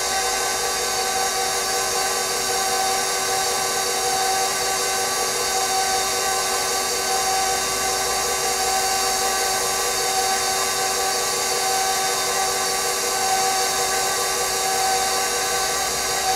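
Lemon loaf cake batter with lemon zest whirs in an electric mixer, a steady, loud, unbroken motor drone running close throughout with no pauses.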